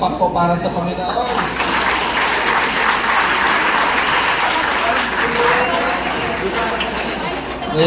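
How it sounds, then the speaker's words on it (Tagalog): Congregation at a youth revival church service breaking into loud, sustained applause that fills the room for the whole stretch, mixed with crowd chatter and cheering, close and dense. "Palakpak po para sa Panginoon."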